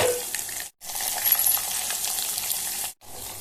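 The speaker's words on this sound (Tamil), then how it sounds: "இந்த மணத்தக்காளிக்காய் வத்தலை போட்டு நல்லா வறுத்துக்கலாம்." Dried turkey berries fry in oil with mustard seeds, fenugreek and a dried chilli, giving a dense, steady sizzling hiss that cuts off abruptly twice, heard close with no talking.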